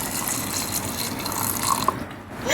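Water pours steadily into a blender jar holding boiled jackfruit seeds, a continuous close splashing trickle lasting a couple of seconds and fading near the end.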